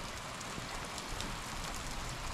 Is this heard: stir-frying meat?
no